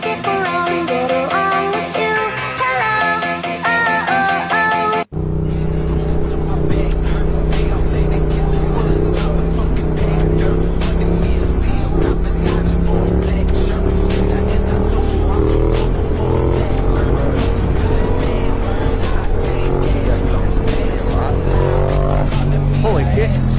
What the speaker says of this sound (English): He's out here doing wheelies in the street